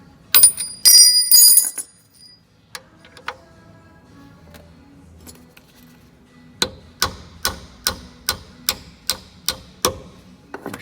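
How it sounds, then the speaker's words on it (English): A small punch is tapped with a hammer to drive a ball joint hold-down bolt through on a Ford Fiesta front lower control arm, around nine sharp, evenly spaced metallic taps following earlier clinks and rattles. "you can just take a small punch and just tap it through."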